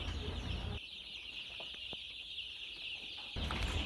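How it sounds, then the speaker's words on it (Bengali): Nine-day-old chicks of a colored chicken breed peep in a farm shed, with short chirps scattered over a steady background hiss and no talk. "আজ আমার মুরগির বাচ্চার বয়স 9 দিন"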